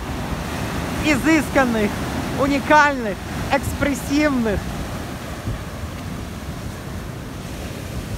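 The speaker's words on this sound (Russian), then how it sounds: "посмотрите, какие волны, ну, это просто ахтунг" Atlantic Ocean surf rolls steadily onto Mudjin Harbor beach in Turks and Caicos, a continuous wash under someone speaking Russian in the first half, then the waves alone.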